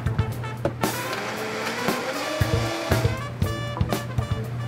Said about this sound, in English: And then we're just gonna blend it up.